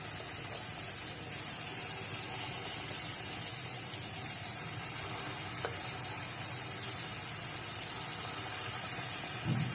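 Lentil dahi bhalla dumplings made from mash daal fry in hot oil, giving a steady, even sizzle and crackle that holds at a moderate level throughout.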